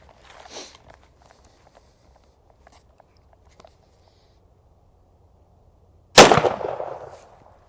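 A .410 slug fired from a survival shotgun with a Midland Arms 4-N-1 gauge kit gives one loud, sharp blast with a decaying tail, preceded by a few faint footsteps and small clicks.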